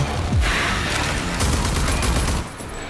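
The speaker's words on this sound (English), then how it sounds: "you got a pretty powerful cannon right there, buddy" Powerful cannon firing in the video game Rage 2, a loud booming blast followed by a burst of rapid gunfire and mechanical clatter that cuts off near the end.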